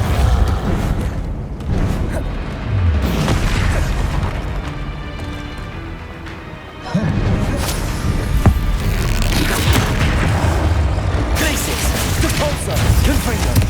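Explosive Confringo spell blasts in the Hogwarts Legacy video game go off amid a dense, loud, continuous battle din of booms and crashes, with a sharp jump in level partway through.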